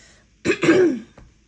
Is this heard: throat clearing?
yes